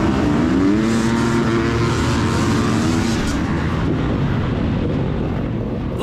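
A pack of 32 dirt bikes, including a 2021 Yamaha YZ250FX four-stroke, launching at the start of a Kingston scrambler race: loud, close engine roar with rising revs as the riders pull away, fading slightly toward the end.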